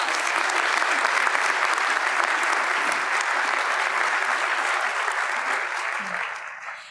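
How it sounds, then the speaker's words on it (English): Sustained audience applause at a community college presidential inauguration, a steady wash of many hands clapping at moderate distance that fades slightly toward the end. "Let's please give them another round of applause."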